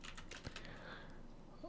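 Rapid keystrokes on a computer keyboard as a prompt is typed, close and quiet, with a brief pause partway through.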